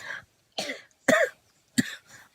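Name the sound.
coughing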